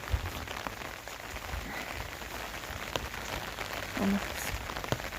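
Steady autumn rain falls in a village orchard, a soft continuous patter on surfaces with a few sharper drops, even and unbroken throughout.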